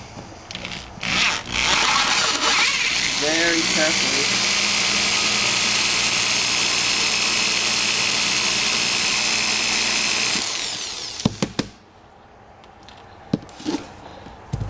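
A power drill grinds steadily and loudly for about ten seconds, drilling out the rivets on the throttle position sensor of a 1987 Nissan 300ZX, then stops, leaving a few sharp clicks and a brief spoken remark.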